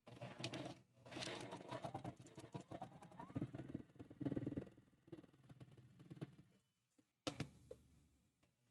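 A home sewing machine stitches rows of a pieced quilt block together, running in uneven bursts of rapid mechanical whirring with short stops, fairly quiet and close, with possible faint speech mixed in.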